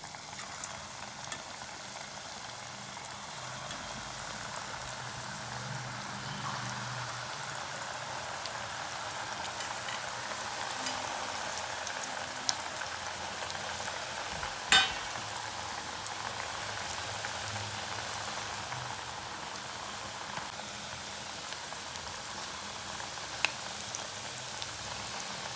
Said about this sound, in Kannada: ಕೋಡ್ಬಳೆ ಬೇಯ್ತಿದೆ